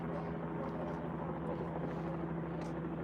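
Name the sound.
helicopter circling overhead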